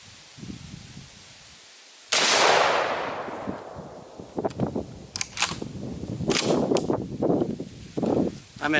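A single loud Magnum slug gunshot fired at Level 4 bulletproof armor with Kevlar backing and broken ceramic plate, a sharp blast with a long decaying tail, followed by clattering and rustling handling noises.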